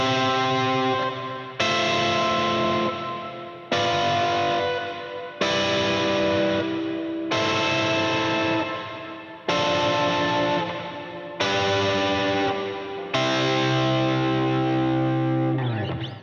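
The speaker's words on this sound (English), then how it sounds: "I just slam on some distortion, used my bridge pickup to give it a bit more bite" An electric guitar played through the bridge pickup with heavy distortion strikes eight sustained chords, each ringing out thick and fizzy before the next hit, close and loud, the final chord held longest with no talking.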